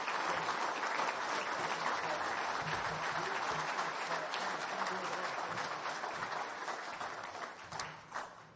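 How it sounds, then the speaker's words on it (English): Sustained audience applause for honorees at a sports awards luncheon in New Orleans, a broad, steady crowd of clapping that holds for several seconds and tapers near the end. "give a big round of applause to all of our honorees up here today"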